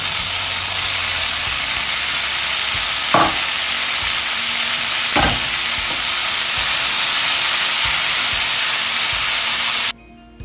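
Eggs with green pepper and tomato stir-fry in sesame oil, a loud, continuous close sizzle with a couple of scraping stirs, cut off abruptly near the end. No voices.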